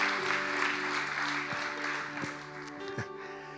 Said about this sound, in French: Est-ce qu'on ne peut pas applaudir ces 5 personnes qui sont devant?